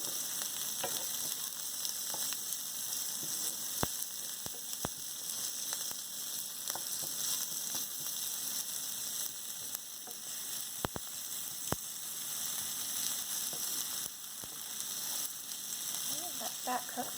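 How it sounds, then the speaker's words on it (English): Ginger and garlic frying in a pan, a steady crackling sizzle with scattered sharp pops and spits over many seconds, heard close and fairly quiet with no talking. "ginger, it tends to spit a little bit once you have that in the pan"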